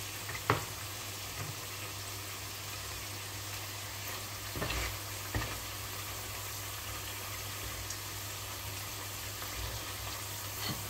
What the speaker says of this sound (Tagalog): Ganito lang po ang pagkapirito.